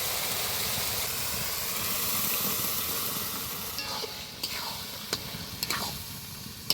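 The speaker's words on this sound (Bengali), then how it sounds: "এবার ভালো করে মশলা এবং চর্বির সাথে ভালো করে কষিয়ে নেব।" Pressure-cooked potatoes and peas fry in rendered goat fat with spices, giving a loud, continuous close sizzle that eases slightly toward the end, broken by a few sharp clicks of stirring.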